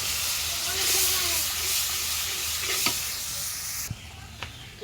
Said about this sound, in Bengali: এই মশলা কষানো হয়েছে।